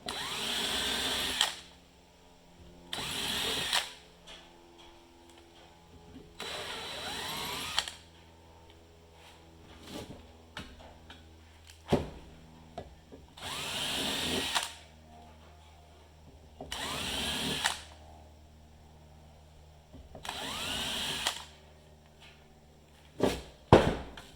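Power drill bores a hole in a Polaris Triple Ultra 680 snowmobile for an oil line modification, whirring in several distinct bursts of a few seconds each, separated by quieter gaps with faint clicks and handling noises.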